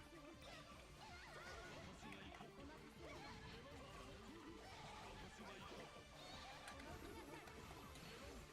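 In a video game, a summoned horse whinnies faintly under a busy, steady mix of game noise, with crashes and chatter-like sounds close by.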